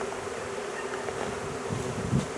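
Steady buzzing of a bee swarm under a trampoline hums through the whole stretch with a soft, close drone that swells slightly near the end.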